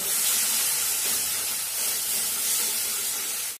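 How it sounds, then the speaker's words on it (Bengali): Boiled potato fries with spices in a hot pan, giving a loud, steady sizzle and hiss that carries through the whole clip and then cuts off abruptly. "সিদ্ধ আলুটাকেও আমি একটু মশলার সাথে ভেজে নিচ্ছি।"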